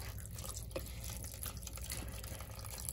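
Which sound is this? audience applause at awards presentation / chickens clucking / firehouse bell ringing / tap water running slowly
tap water running slowly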